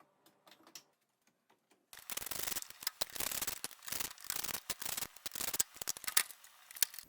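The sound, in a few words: removing oven knobs and unscrewing face plate screws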